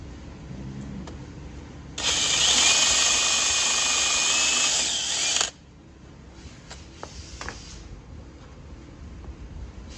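A power drill whirs steadily for about three seconds, drilling into a jet ski hull, over a low background hum, then stops, leaving scattered faint clicks and handling noises.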